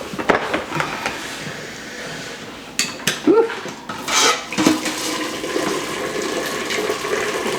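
Cooked pasta for a chicken Thai pasta salad is drained and rinsed in a kitchen sink, with running, splashing water and a few clanks of a pot or strainer, close and uneven, without talk.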